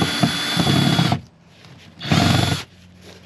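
A power drill backs screws out of an ambulance roof during demolition: two loud, close whirring bursts of about a second each, separated by a quieter pause.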